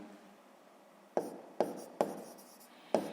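Pen strokes on paper while working a sixth-grade math exercise, a faint steady scratch broken by four or five sharper taps or strokes, close and quiet, with no talking.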